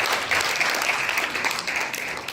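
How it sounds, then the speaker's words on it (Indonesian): Applause from an audience at a silat Cingkrik Rawa Belong inauguration at an orphan pesantren, honouring Bang Dai; a steady wash of many hands clapping at moderate volume, filling the short stretch without talk. "Tepuk tangan dong buat Bang Dai."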